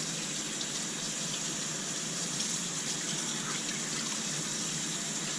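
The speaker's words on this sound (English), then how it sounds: "Give it some water going and start washing." Warm water running from a tap over raw pork being washed for bacon, a steady broadband gush of flowing water, constant and moderately close with no talk.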